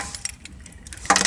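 Tractor keys jangle close by in a brief, bright metallic rattle, a few light clinks and then a louder shake at the end over low background noise.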